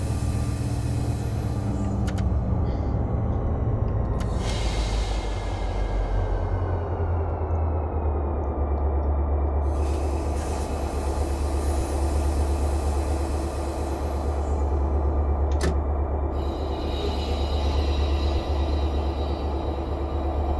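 A train in the Run 8 train simulator video game gives off a steady, loud low rumble of rolling freight cars. Short bursts of hissing air brakes rise and fall over the rumble, with a sharp clank near the end.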